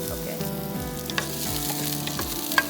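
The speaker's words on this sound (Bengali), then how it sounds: "এটা আমি এক থেকে দুই মিনিটের মতো একটু হালকা ভেজে নিব" Carrots frying in hot oil make a dense, even sizzle close by, with small ticks and pops and a faint rhythmic scrape running throughout.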